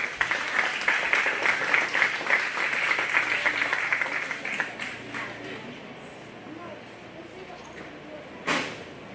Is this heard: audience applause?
yes